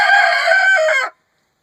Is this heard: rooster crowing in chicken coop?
yes